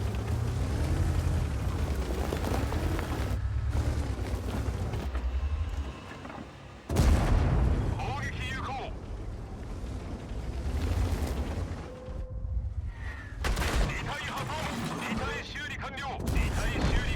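Artillery shells and tank cannons fire in a heavy-tank video game featuring the Japanese Type 68, with loud booming blasts and rumbling explosions recurring at irregular intervals, some sharp and close, others duller.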